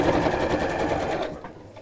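A sewing machine stitches along the edge of a messenger bag in a steady, fast mechanical whir that runs continuously, then cuts off near the end.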